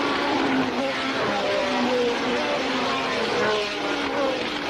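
Formula 1 race cars pass at Brands Hatch during a British Grand Prix, a loud continuous engine roar with shifting pitch as the field streams past, busy and fairly close throughout.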